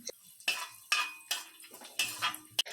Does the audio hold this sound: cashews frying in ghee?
yes